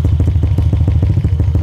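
Scooter fitted with a TSMP Stage 3.5 exhaust, idling close and loud with a deep, steady, rapidly pulsing throb.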